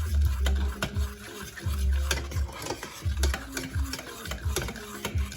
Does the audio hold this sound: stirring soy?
yes